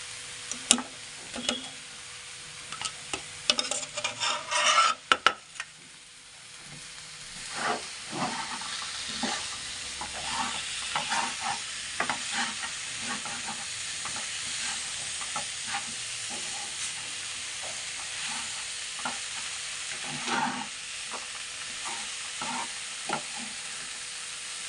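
Coriander leaves and mint frying in a pan for a village-style country chicken sambar, a soft continuous sizzle broken by frequent clicks and scrapes of a spoon stirring, no talking.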